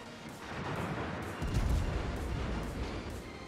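Naval guns fire in the World of Warships video game, with a deep booming salvo swelling midway over a continuous low rumble of battle.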